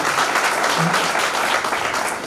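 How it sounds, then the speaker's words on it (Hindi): Steady applause from a crowd, dense clapping that holds evenly for a couple of seconds and tapers slightly at the end. "जोरदार तालियां मिस्टर टोनी जी के लिए।"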